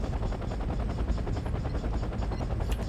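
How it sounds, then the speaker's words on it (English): Rotor chop from helicopters in the strategy video game Act of War: Direct Action, a dense, steady, rhythmic thrum filling the whole stretch with a faint rattle of gunfire mixed in. "Let's build more helicopters, please."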